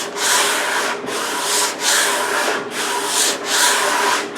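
A wooden kitchen table is sanded with the grain in long back-and-forth strokes, loud and close, a rhythmic rasping hiss with brief gaps at each change of direction, with no talking.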